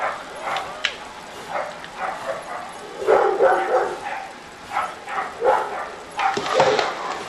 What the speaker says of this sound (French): ils sont chiants les chiens là